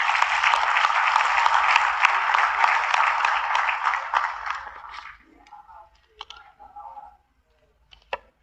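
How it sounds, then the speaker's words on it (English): An audience applauds panelists at the close of a colloquium session, a dense, loud wash of clapping for about five seconds that then thins into scattered claps, with faint voices and a few sharp knocks afterward. "si vous voulez vous joindre à moi pour applaudir les panélistes"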